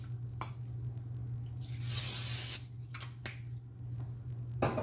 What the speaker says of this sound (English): I'm going to spray a little bit of this cooking spray.